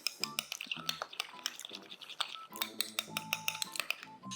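Food being stirred into sauce in a pan, with a series of clinks and scrapes of utensil against cookware, close and fairly quiet, alongside talking.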